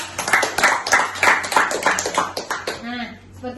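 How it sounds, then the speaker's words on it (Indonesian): A group of students clap together in a classroom guidance session, brisk rhythmic claps that are close and fairly loud, dying away into quieter room noise near the end. "Tepuk tangan dong."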